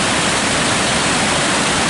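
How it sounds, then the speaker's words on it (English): Dense, roaring rush of churning water at the bottom of Kakabeka Falls in Ontario, Canada, a loud steady wash of noise with no breaks, heard close up. "showing you the bottom of the fall, where you can see all that churning of water"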